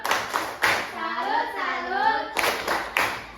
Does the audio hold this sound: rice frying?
no